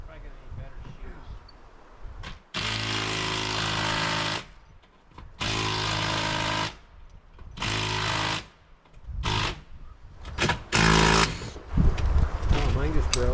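A cordless power drill drives fasteners for snow guards into a two-story house roof, running in several loud bursts of a few seconds each with short pauses between, and a voice talks briefly near the start.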